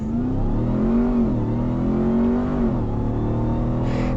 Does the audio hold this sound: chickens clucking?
no